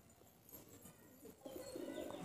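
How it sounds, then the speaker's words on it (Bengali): A pigeon with striking green eyes coos softly in a loft, a few low, faint throaty calls rising toward the end over quiet background noise. "খুব সুন্দর চোখের পায়রা।"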